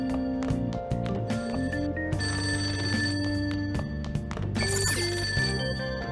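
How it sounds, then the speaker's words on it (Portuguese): A telephone rings in the video game Persona 5, repeated bell-like ringing tones over layered game music, steady and fairly loud throughout, with no talk. "Está a tocar no telefone."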